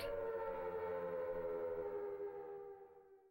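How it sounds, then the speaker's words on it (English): A civil-defense-style siren wails in the Silent Hill video game, a long sustained droning tone that holds steady and then slowly fades away as it winds down, with no talk over it. "Sirens begin to wail in the distance."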